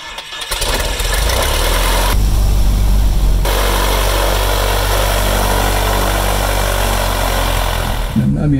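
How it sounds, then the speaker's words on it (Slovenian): A tow plane's propeller engine warms up at a glider airfield, running loud and steady close by with a brief surge partway through, while people talk over the roar. "Zdaj pa čakamo vlečni avion, da se greje motor, pride sem"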